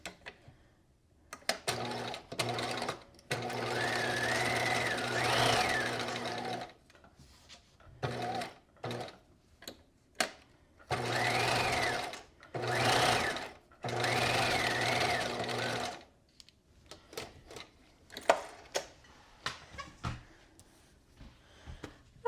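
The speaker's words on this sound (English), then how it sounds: "We're stitching at 5/8 of an inch. And then back stitch." Sewing machine stitching a seam on a knit pencil skirt, running in several short and medium bursts of close mechanical whirring separated by quiet gaps and handling clicks.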